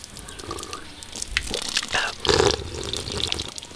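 Water runs and splashes from a small tap fitted to a homemade glued water container, a short gurgling flow rising and falling, close by with no talking.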